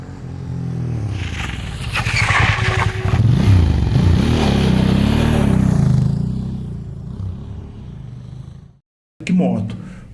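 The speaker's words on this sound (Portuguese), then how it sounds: "Que moto." A motorcycle engine rises and passes close by, loud for several seconds then fading, with speech around it and an abrupt cut near the end.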